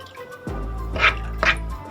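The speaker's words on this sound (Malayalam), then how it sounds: "ഇനി നമ്മൾ നേരത്തെ മാറ്റി വെച്ച അരിപ്പൊടിയുടെ മിക്സ് ഇതിലോട്ട് ഒഴിച്ചു കൊടുക്കാം" Rice flour mix is poured into milk, making a close, brief stream of liquid with a low gurgle and two splashy spurts.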